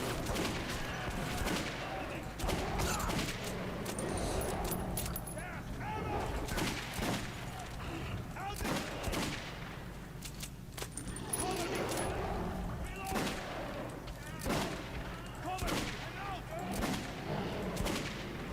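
Gunshots ring out in the shooter Metro 2033 Redux as repeated sharp cracks and booms over a busy game soundscape, with someone talking throughout.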